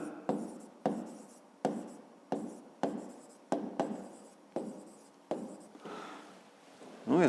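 Pen strokes on paper while working a 5th-grade math exercise, a series of about ten crisp scratching bursts in a steady rhythm, close and fairly quiet, with no speech.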